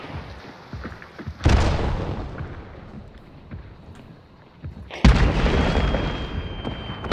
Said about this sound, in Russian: Гранату откинул.